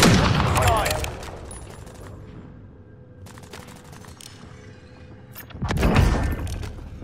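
Gunfire in a Call of Duty: Warzone Plunder match comes as two loud, close bursts of rattling shots with a booming, rumbling tail, separated by a quieter stretch of distant game ambience.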